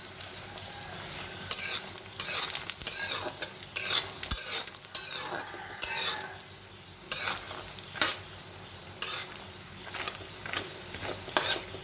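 Lentil badi frying in a pan while being stirred, a steady sizzle broken by repeated scraping strokes of a utensil against the pan at an irregular rhythm.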